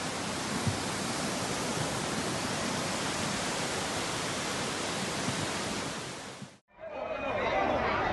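Floodwater surges through an Austrian suburb in a dense, steady roar that fills nearly the whole span, then cuts off briefly and returns slightly thinner and closer.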